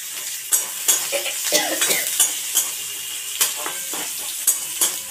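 Four slit green chillies fry in a generous amount of hot oil for a prawn and water lily stem curry, a loud, steady sizzle broken by repeated spatula scrapes and stirring knocks against the pan.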